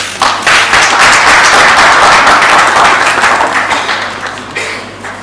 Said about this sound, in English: May we please give them another round of applause